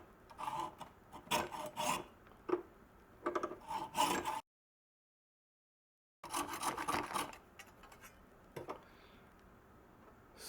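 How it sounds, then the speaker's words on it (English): An ordinary hacksaw cuts through antler in quick rasping back-and-forth strokes, close and fairly quiet, stopping briefly for a silent pause before the sawing resumes. "In order to cut it, just a regular old hacksaw."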